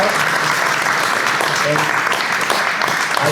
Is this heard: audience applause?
yes